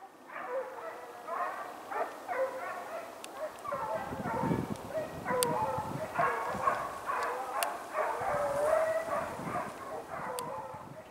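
A pack of Ariégeois hounds bays continuously in the woods while trailing a hare, many overlapping voices at moderate distance, with someone talking over the chorus throughout.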